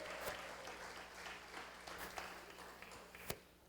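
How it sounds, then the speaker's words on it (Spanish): A church congregation applauds, a faint, diffuse patter of clapping with a few sharper claps standing out, fading toward the end. "Damos un aplauso al Señor por los chicos de alabanza"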